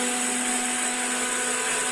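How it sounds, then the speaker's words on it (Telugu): An electric mixer grinder whirs loud and steady while grinding fried cumin and fenugreek seeds into powder for tomato pickle, a continuous high motor whine with no pauses. "ఇప్పుడైతే మిక్సీలోని గుండ అయితే కొట్టేస్తుంది"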